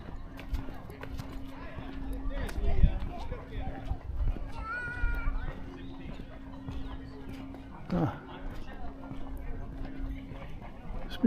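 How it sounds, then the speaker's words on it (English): Horses clip-clop along a brick-lined colonial street in Williamsburg, Virginia, their hooves beating a steady uneven rhythm at moderate distance while someone talks over them and a voice briefly rises in the background. "Speaking of horses, here they come now."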